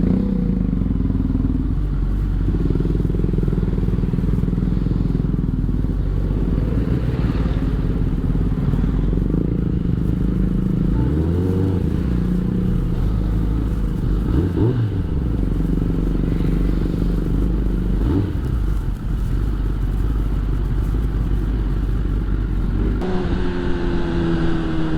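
Kawasaki ZX-10R motorcycle fitted with an Akrapovic exhaust, its engine running steadily and loud throughout with several swelling revs near the middle, recorded close with no talk.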